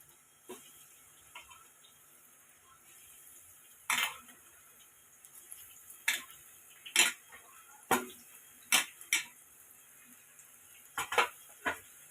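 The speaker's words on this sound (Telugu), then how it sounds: "ఈ ఆనియన్స్ వేసి బాగా కలపాలి ఫ్రెండ్స్" Chopped onions being stirred in a pan while making egg fry, heard as a series of sharp metallic spatula clinks and scrapes against the pan, irregular and fairly close, with quiet background between strokes.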